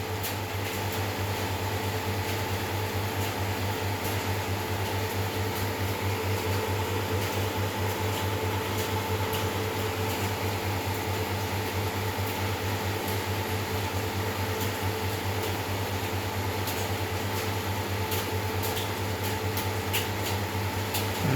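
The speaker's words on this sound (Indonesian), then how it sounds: "Nah, soldernya kena kipas nih." An electric fan blows steadily over a soldered joint on a 2 kW VHF linear amplifier, giving a constant whirring hum with a low motor drone that stays unbroken throughout.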